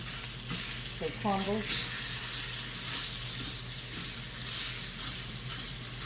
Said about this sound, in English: So I'm just gonna brown up this little patty.